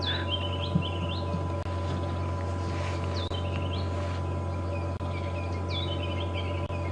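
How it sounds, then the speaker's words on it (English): At sunrise in the African bush, a bird repeats short chirping phrases a few times over a steady low drone of a safari vehicle's engine and a bed of insect buzz. "Bird call we're hearing"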